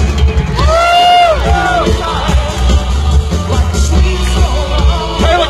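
Spectators at a slugburger eating contest in Corinth, Mississippi cheer, yell and whoop in a loud, sustained roar, with individual shouts sweeping up and down over the crowd noise and an occasional bang.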